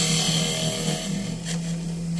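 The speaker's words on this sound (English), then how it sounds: "Now I'm just hollowing out the lid just to make it look a bit better." A wood lathe spins steadily while a tool hollows out the lid of a box turned from shop-bought firewood, giving a continuous close scraping and rasping over a low motor hum.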